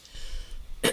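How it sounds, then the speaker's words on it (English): A single brief throat clearing near the end of a quiet second, a short sharp burst from a person during a live art session. "Excuse me, clearing my throat."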